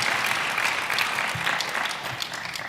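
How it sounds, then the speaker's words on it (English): Doctoral graduates at a May 2021 graduation ceremony receive steady, dense applause from the audience, a full round of clapping that holds evenly and fades slightly toward the end. "I'm sure that they also deserve a round of applause"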